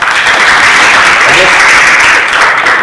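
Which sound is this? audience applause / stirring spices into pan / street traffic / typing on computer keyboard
audience applause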